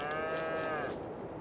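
A cow in Farming Simulator 22 gives a single long, drawn-out moo, close and clear, that tails off near the end with no talking over it.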